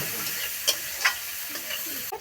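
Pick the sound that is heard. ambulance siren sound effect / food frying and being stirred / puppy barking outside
food frying and being stirred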